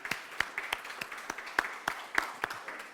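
Sparse audience clapping for a panelist walking onto a conference stage, individual sharp claps in an uneven rhythm over a quiet hall, with a voice faintly present.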